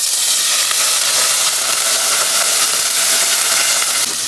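Washed dried fish dropped into hot oil in a heated pot, giving a loud, continuous, even hiss and sizzle that holds steady to the end.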